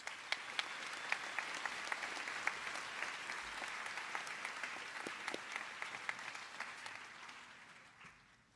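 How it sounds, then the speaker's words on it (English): Graduation audience at Glen Rose High School claps in a sustained round of applause, a dense wash of many hands with occasional sharper claps, tapering off toward the end. "Let's give them a round of applause, please."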